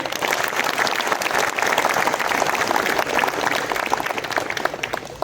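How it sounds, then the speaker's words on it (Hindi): Steady, dense applause from an audience at a Sleepwell Foundation Day celebration in a Jalpaiguri unit, filling the whole stretch at an even, loud level with no pauses. "तहे दिल से सर के लिए तालियों की बारिश कर दें।"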